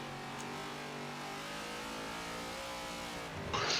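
Race cars in a sim racing game lap the Spa circuit, a steady mid-pitched engine drone holding throughout with a brief sharper rise at the end.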